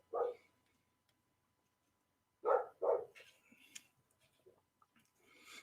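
A dog barks several times, loud and close: one bark, a pause, then a quick pair, followed by faint scattered ambient sounds.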